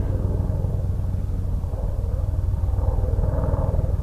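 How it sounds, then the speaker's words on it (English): A low, pulsing rotor thump from a military Black Hawk helicopter passing low overhead near a lake, with a steady rumble and rhythmic beating throughout, no voices. "we have a low flying helicopter coming over here"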